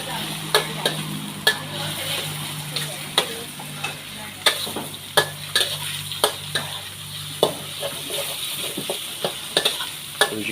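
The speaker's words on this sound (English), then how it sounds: "Let all those flavours mix in with the pork while it's cooking." Pork stir-fries for Thai basil stir-fry (pad krapow), sizzling steadily in a hot pan while a utensil scrapes and clacks against the metal in irregular sharp taps, close and alone.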